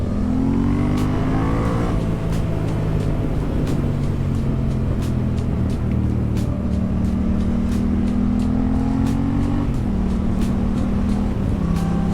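A Yamaha MT-07 motorcycle with a Leo Vince aftermarket exhaust revs up and down repeatedly with rising and falling pitch, close by, with sharp crackling pops over the throaty roar.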